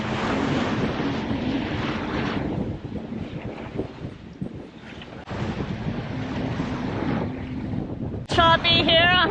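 Sailboat motoring under engine through choppy water off the north side of the Rosario Islands, with a steady low engine drone, sloshing waves and gusty wind buffeting the microphone, ending in a sudden sharper burst of noise.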